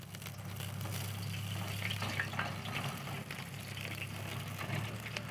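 Boiling oil at about 500 degrees poured slowly over pork skin on a grill, a steady hissing, gushing sizzle that holds close and even throughout, with no talk.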